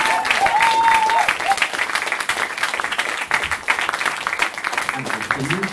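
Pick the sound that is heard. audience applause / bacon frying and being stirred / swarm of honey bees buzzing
audience applause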